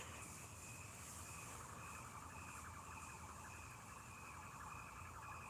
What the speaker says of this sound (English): What kind of siren is that?